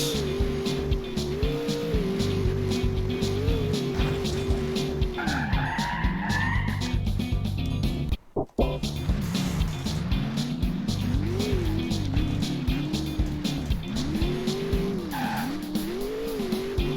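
Car in The Driver Syndicate video game drives over a bumpy road, its engine droning steadily and rising and falling in pitch, with tires squealing and brief thuds and skids as it jolts along.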